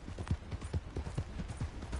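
Horse hooves clip-clop in a video game, a quick, even series of close, muffled thuds at roughly four steps per second.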